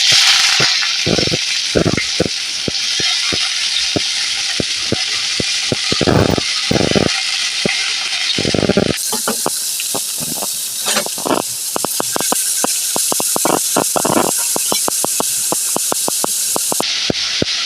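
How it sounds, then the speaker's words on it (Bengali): Bitter gourd slices and potatoes fry in hot oil, giving a loud continuous hiss and spray with repeated crackling bursts and spatula clatter, louder and denser in the second half. "এবার উচ্ছে আলুগুলোকে ভেজে নেব"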